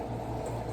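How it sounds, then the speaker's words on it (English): Pasta boiling in a pot on a home stove, a steady close bubbling and rumbling that holds level for under a second with no voices. "So I'm gonna let the pasta boil."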